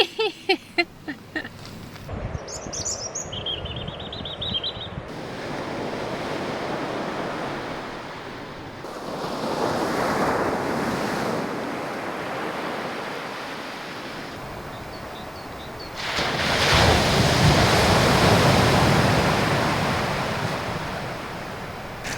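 Magnificent sea waves rolling and crashing onto a Scottish beach, a continuous roar of surf with swelling peaks and wind noise buffeting the microphone.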